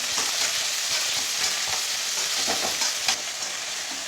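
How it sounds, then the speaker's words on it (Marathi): Onions and tomatoes sauté in a hot pan as part of a puffed-rice (murmura) breakfast dish, giving a steady, close frying sizzle with scattered crackles and a sharper stir or scrape near the end. "तर आपल्याला ह्याच्यात कांदे, टमाटे, परतून घ्यायचं आहे"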